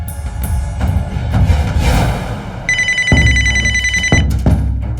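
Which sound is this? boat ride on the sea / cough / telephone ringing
telephone ringing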